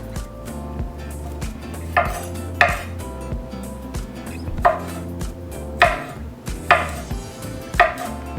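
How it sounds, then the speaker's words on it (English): Garlic being chopped with a knife on a board: a series of sharp, close knife strikes in irregular bursts about once a second, over a low steady background hum. "one little trick for chopping up garlic is to really just press it with the side of your blade"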